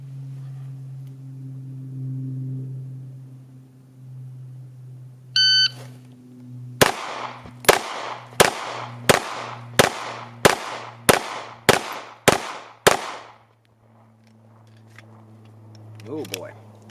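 A shot timer beeps once, then a Glock 17 Gen 4 pistol fires ten sharp, loud shots at an even, fairly quick cadence in a timed drill, followed by quiet.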